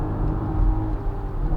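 A BMW X3 M50, a near-400-horsepower SUV, drives with a smooth, steady engine note, a low continuous rumble and whir held at an even pitch throughout, close and alone with no talking.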